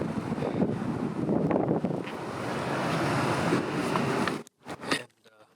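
Wind buffets a microphone outdoors beside a Nissan Silvia S15 Turbo, a loud, continuous low rumble with gusting surges that cuts off abruptly near the end, followed by a few brief muffled bursts.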